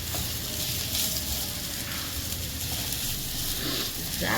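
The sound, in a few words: grated radish stuffing sizzling while stirred in pan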